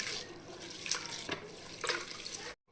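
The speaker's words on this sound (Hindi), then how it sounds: "तो मेथी को हम अच्छे से 2-3 पानी से धो लेंगे।" Fenugreek leaves are rinsed in a kitchen: tap water runs and splashes steadily at low level, with a few louder sloshes as the leaves are swished, then the water stops.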